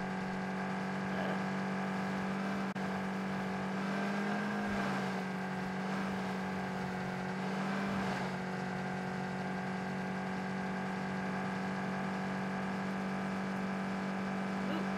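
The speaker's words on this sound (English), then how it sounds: "This car is too loud" A car engine in the video game PUBG drones loudly and continuously for fifteen seconds, a steady humming rumble with a strong tonal whine that barely changes pitch while the vehicle drives along a road.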